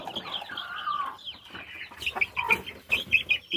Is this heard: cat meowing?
no